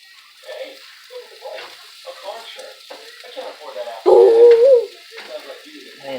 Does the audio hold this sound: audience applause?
no